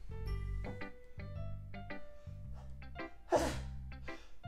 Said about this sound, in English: Are we done with the fucking sneezing today?